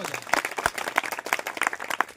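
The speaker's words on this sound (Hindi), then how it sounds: "ये एक बार जोरदार तालियां हो जाए" Applause at a school awards ceremony for a student being honoured: a modest group clapping in uneven, distinct bursts, fairly close and moderately loud, with no speech over it.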